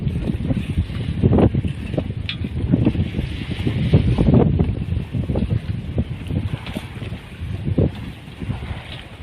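Wind buffets a boat at sea while waves slosh and slap against the hull, a rough, gusty rumble with irregular splashing bursts, close and noisy, with no talk.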